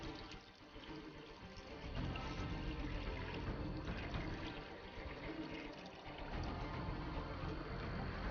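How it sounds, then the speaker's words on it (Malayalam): Water is poured from close by into the opened radiator of a Premier Padmini car that sat unused for ten years, giving a steady, continuous rushing and gurgling fill that swells louder about two seconds in. "റേഡിയേറ്റർ തുറന്ന് റേഡിയേറ്ററിൽ വെള്ളം"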